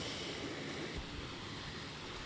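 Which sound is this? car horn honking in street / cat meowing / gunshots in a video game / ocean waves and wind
ocean waves and wind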